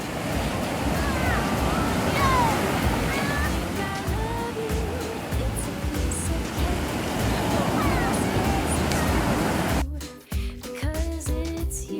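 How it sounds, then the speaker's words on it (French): A big ocean wave surging as a loud, continuous roar of surf mixed with wind noise, with faint voices underneath, before the sound cuts away near the end. "Attention, il y a une grosse vague."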